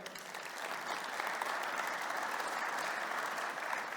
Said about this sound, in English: Let's have a big round of applause for our first guest